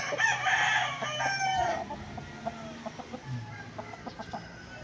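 A rooster crows loudly up close. Chickens then cluck in short, scattered bursts.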